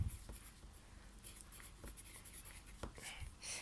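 A pencil scratches continuously across paper during a blind line drawing of a still life, faint soft scraping with small taps and changes of stroke, close by.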